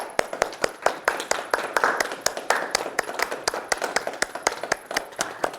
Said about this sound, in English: Shall we clap?